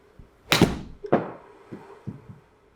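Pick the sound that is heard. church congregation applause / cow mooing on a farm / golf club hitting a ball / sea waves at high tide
golf club hitting a ball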